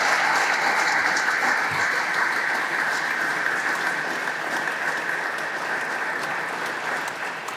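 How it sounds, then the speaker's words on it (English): Sustained audience applause at a military change of command and retirement ceremony honoring sergeants, dense steady clapping filling the hall at full volume throughout. "Ladies and gentlemen, how about a round of applause for all the sergeants?"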